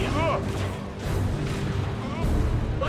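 Gunfire and artillery blasts from the real-time strategy game Dawn of War 2: Chaos Rising, a dense, continuous barrage of booms and shots filling the battle soundscape with steady loudness and no clear gaps.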